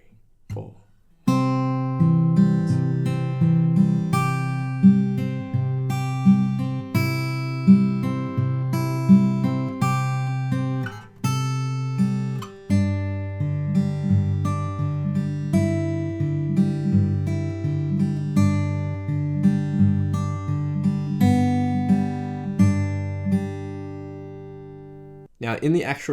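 Acoustic guitar fingerpicking the intro to a song, a steady, close and clear picked pattern of ringing notes with a bass line underneath, played alone and unbroken for about 25 seconds.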